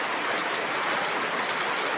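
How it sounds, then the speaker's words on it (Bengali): Heavy downpour pours without a break, making a dense, even rushing hiss outside a home surrounded by floodwater. "আর হচ্ছে মুসলদারি বৃষ্টি"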